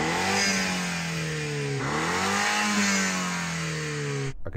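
A BMW M135i engine revs hard in two rising sweeps, climbing, dipping briefly, then climbing again with a loud raspy tone before cutting off abruptly.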